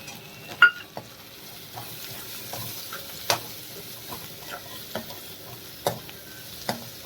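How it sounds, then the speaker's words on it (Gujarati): Ridge gourd stirred in a hot pan with turmeric and coriander-cumin powder: a soft, low sizzle under sparse, sharp clinks and scrapes of the spoon against the pan. "હવે તેમાં આપણે તુરિયા એડ કરી દઈશું."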